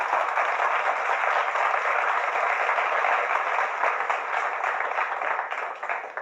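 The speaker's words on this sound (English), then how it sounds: "We have to give her a round of applause." Audience applause fills the room continuously and evenly at moderate loudness for several seconds, a dense wash of many hands clapping, easing slightly toward the end, with no talk over it.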